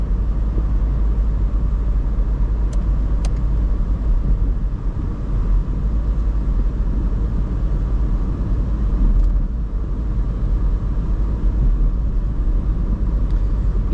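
A car drives through a road tunnel on a Brisbane suburban route with its headlights on, giving a steady, loud, enclosed engine and road roar that holds throughout with no talk.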